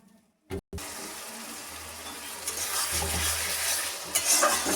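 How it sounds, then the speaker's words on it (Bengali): Spice masala being stirred and fried with a splash of water for a Bengali country chicken curry, a brief knock, then a close, steady sizzle with stirring scrapes that grow louder toward the end. "আমি একটু জল দিয়ে মশলাটাকে নাড়িয়ে নিলাম"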